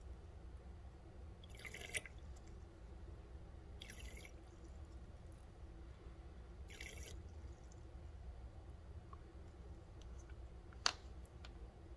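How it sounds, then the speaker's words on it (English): Water drips and trickles faintly while a syringe is flushed after inking fountain pens, a few soft separate drips spaced out over near silence. "So I go ahead and flush my syringe."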